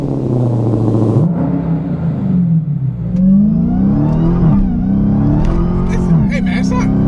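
A Dodge Challenger Hellcat's supercharged engine revs repeatedly, its loud, close roar and whine climbing and dropping in pitch through several throttle blips, with a rough idle rumble between them.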